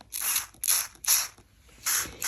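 Four short hissing bursts of spray paint from an aerosol can, each lasting about a third of a second, with brief pauses between them.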